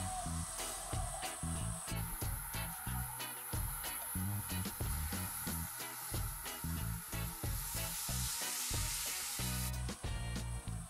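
Beef sears in slightly burnt, caramelized sugar in a pot, a loud, steady, close sizzle with frequent stirring and scraping through it.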